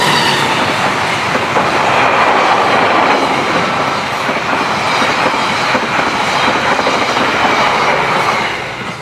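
A train rumbles past close by a river, loud and continuous, with a rhythmic clatter of wheels on the tracks that fades slightly at the end.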